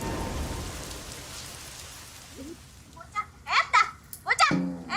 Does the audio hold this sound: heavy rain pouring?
yes